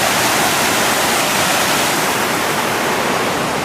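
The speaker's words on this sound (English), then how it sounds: "Waterfall." A waterfall pours steadily inside an abandoned WW2 prison camp, making a loud, dense, unbroken rush of broadband noise that fills the whole stretch with no voices over it.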